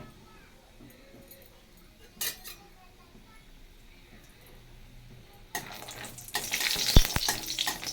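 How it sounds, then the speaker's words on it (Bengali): Lentil dumplings (bori) frying in a pan of oil, a quiet sizzle that swells loud near the end with metal utensil clatter and stirring, preceded by a brief clink. "বড়ি ভেজে নিলাম।"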